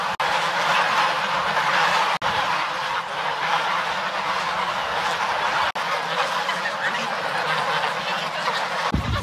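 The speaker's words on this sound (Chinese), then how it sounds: "看这鹅嗷嗷叫，伸着脖子要粮食。" A flock of geese on a forest homestead in northeast China honks loudly and continuously while waiting to be fed, a dense chorus of overlapping calls close by with a couple of brief dropouts.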